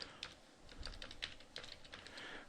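Rapid keystrokes on a computer keyboard while Java code is typed, a steady run of light, close clicks with small irregular pauses.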